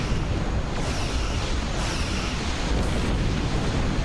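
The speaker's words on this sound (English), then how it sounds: "Okay, let's go for a torpedo launch." A torpedo launch in the space game Star Trek Online, heard as a steady, loud rushing roar with a deep rumbling low end that holds without a break for about four seconds, much like surf or a drawn-out blast.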